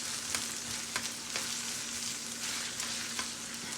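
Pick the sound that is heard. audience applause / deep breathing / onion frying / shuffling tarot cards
onion frying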